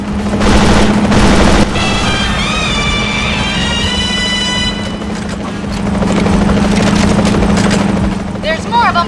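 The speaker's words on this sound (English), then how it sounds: "Watch out for that helicopter!" Helicopter in the video game 007: Agent Under Fire, a loud steady rotor drone under bursts of gunfire and engine noise throughout.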